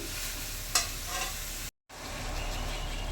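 Bottle gourd pieces are stirred and fried in a pan, giving a steady sizzle with a sharp scrape near the start, a brief dropout midway, then continued frying.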